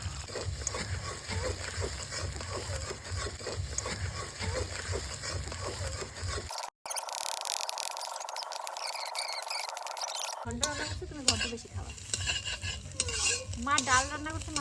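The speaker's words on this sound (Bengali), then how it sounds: "এখানে তেল ঢেলে দিয়েছে আর প্রথমে ডিম দিয়েছে এটা অ্যাকচুয়ালি হাঁসের ডিম" Duck eggs frying in oil in a home kitchen pan, a steady close sizzle with scraping stir and utensil clatter, briefly cut off midway before resuming with clinks.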